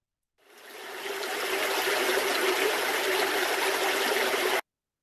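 A stream flows in a steady, unbroken rush of water, fairly loud and close, with no talking.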